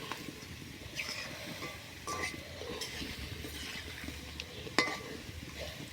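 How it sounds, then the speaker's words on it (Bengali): Pakoras frying in hot oil, a soft continuous sizzle with occasional light clinks and stirring taps of a utensil against the pan, fairly quiet and close. "এটা ততক্ষণ ভাজবো যতক্ষণ না লাল লাল হয়ে যায়।"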